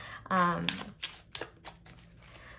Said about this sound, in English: I'm going to go ahead and start shuffling now